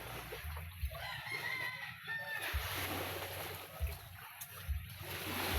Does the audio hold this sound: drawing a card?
no